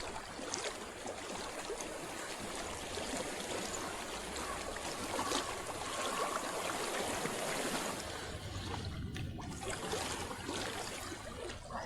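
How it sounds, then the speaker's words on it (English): A steady stream of flowing water runs through the whole scene in Hellblade: Senua's Sacrifice. It is a constant, close rushing and trickling wash that stays level throughout, with no talk. "I hear water."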